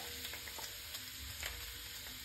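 Small Medan anchovies (teri Medan) frying in hot oil, a faint, steady sizzle with light crackles and occasional soft stirring scrapes, no talking.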